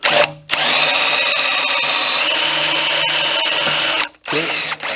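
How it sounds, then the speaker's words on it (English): A power drill bores two holes for a rail installation, one long steady close whine after a brief start, a short pause, then the second hole beginning. "Now, I'm going to drill these 2 holes."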